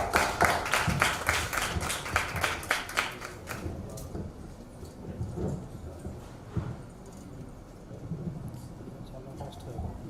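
Applause at a chapter launch ceremony in Vijayawada, a few seconds of brisk clapping that fades out early, leaving a quieter room where voices murmur.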